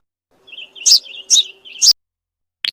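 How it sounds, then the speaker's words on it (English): A sparrow gives a short series of three bright, sharp chirps followed by a brief final tweet, close and clear against near silence, with no voices. "Sparrow."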